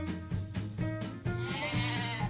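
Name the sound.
sheep bleating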